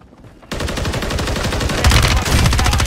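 Loud, rapid gunfire from a multiplayer shooter video game bursts in suddenly and rattles on continuously, growing heavier toward the end, with no talking.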